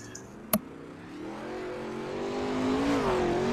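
A 410 sprint car engine in the iRacing game rises in pitch as it accelerates around Lanier Speedway. The rising drone is steady and grows louder, with a sharp click near the start.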